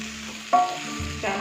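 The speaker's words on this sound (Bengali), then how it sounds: "এবার এই মশলাটাকে ভালো করে আবার একটু কষিয়ে নেব।" Spice paste with cumin and coriander powder frying in a pan for a mutton fat chana dish, a soft steady sizzle with a stirring scrape partway through, close and fairly quiet.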